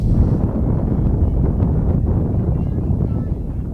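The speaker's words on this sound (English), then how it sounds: "strong gust of wind" Strong wind gusting across a microphone on a windy afternoon at an outdoor high school girls' softball game, a loud continuous low rumbling buffet that fills the whole stretch.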